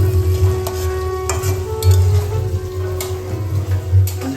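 Green beans fry in a pan for a fried rice meal, a loud steady sizzle up close with stirring scrapes and clatters breaking through now and then, and no one speaking over it.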